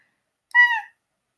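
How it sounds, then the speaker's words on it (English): A single short, faint meow-like cry of a cat in the Psychonauts video game, rising and falling tonally for about half a second against total silence. "That sounds like a cat to you?"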